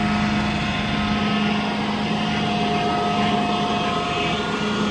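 A scissor lift runs with a steady, loud mechanical hum and drone that holds constant throughout, with no talking over it.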